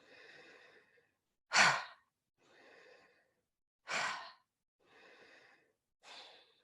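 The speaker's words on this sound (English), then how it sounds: "Exhale, pump your belly back a lot." Slow yoga breathing exercise in a quiet room: three forceful, breathy exhales alternate with softer, longer inhales through the nose or mouth, evenly paced and close, with no talking.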